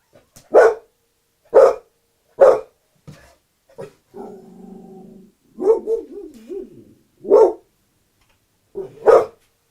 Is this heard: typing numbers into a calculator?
no